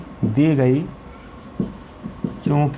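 Pen or chalk scratching as a math solution is written out, short faint strokes under a teacher's voice speaking throughout.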